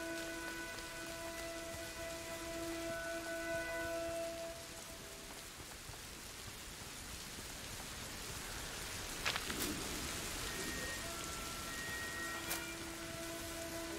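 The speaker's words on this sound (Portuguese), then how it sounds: "Ah, tá chovendo, né, velho?" Steady rain patter in A Plague Tale: Innocence with a few faint tonal music-like lines drifting in and out, plus a couple of brief sharp ticks, fairly quiet throughout.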